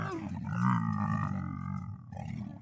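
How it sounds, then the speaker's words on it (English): A lion gives a deep, sustained roar, loud and close, with a rumbling, growling texture that swells and then trails off, heard alone without talking. "The lion roars loud, he's big and strong."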